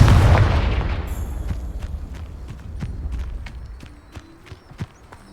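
A Confringo fire spell explodes in Hogwarts Legacy, a loud, deep boom at the start that decays into scattered crackles and light thuds over several seconds.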